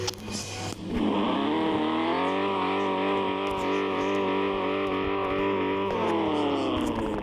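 A car engine in the video game Car Parking cranks, catches and then holds a loud, steady revving drone before easing off near the end.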